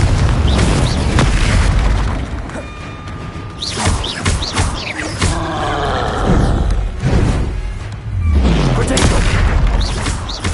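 Confringo explosion spells cast in a Harry Potter video game, several loud booming blasts bursting one after another, with sharp pops and crackling debris between them.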